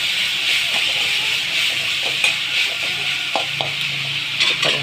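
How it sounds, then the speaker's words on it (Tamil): Tomatoes sautéing in a pan with turmeric and rock salt, giving a steady, close hiss and sizzle throughout, with a few faint clinks of a spoon stirring. "தக்காளி நல்லா வதங்கட்டும்."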